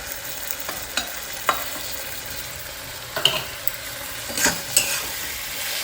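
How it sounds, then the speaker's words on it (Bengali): Papaya fries lightly in a pan with nigella seeds and mustard-poppy paste, a steady close sizzle punctuated by repeated clicks and scrapes of a spatula stirring, loudest near the end, no speech. "একটুখানি পেঁপেটা অল্প করে হালকা করে ভেজে"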